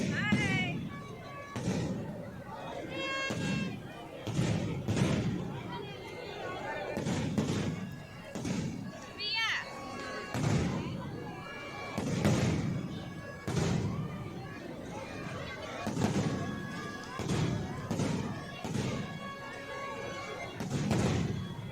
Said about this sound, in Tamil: அதுக்குள்ளே அங்கே வெடி போட ஸ்டார்ட் பண்ணிட்டாங்க